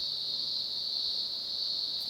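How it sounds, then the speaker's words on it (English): Cicadas buzz in one steady, continuous high-pitched drone that holds at an even level throughout, with no pauses and no voices. "It is a new day and the cicadas are still at it."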